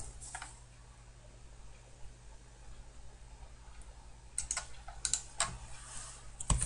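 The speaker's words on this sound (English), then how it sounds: "And we'll type in top view." Quiet computer keyboard typing: a soft faint patch early on, then a short cluster of louder key clicks near the end, close up in a quiet room with no talking.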